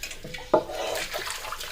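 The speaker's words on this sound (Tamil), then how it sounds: "இந்த மாதிரி தேங்காய் நார் இருந்துச்சுன்னா நல்லா தேய்ச்சி வாஷ் பண்ணிக்கோங்க" A new stone wet grinder is scrubbed with coconut fiber and rinsed with water, giving soft splashing and rubbing sounds with one sharper knock, quiet and close by.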